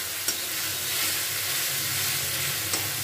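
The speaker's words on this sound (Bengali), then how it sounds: "এখানে কিন্তু মশলাটা ভালো করে কষানো হয়ে গেছে" Spice paste being fried down in a pan, a loud, dense, continuous sizzle close up, with two faint clicks of a utensil and no voices.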